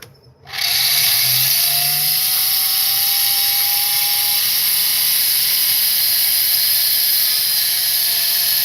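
An OPAL ice machine runs steadily right after being switched on, a loud, constant whirring motor hum with a high whine that starts abruptly after a brief quiet moment and holds without a break.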